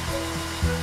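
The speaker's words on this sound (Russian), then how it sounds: "а теперь мы возьмем этот промышленный фен, а это усадочная пленка. Когда фен ее нагревает, она плотно обтягивает товар." An industrial heat gun blows hot air onto shrink wrap film in a short, steady whooshing burst with a slight thump near the end.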